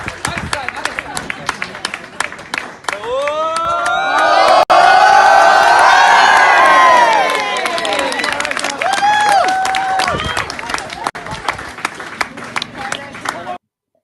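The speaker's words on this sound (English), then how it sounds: "if we can just get a clap before we get up" Crowd clapping, cheering and whooping for a local soccer team at a club celebration, loud and close, swelling to a peak midway and then fading as the applause trails off.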